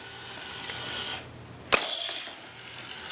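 A Nerf target toy gives a single sharp, tinny electronic gunshot effect that cracks out once over a steady low hiss, followed by a brief faint ringing tone.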